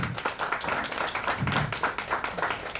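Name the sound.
audience applause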